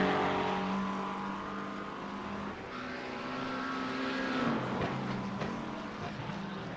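A McLaren GT3 race car at Sebring in a racing game, engine droning and shifting pitch as it pushes on, a steady loud roar with gear changes and a brief dip partway through.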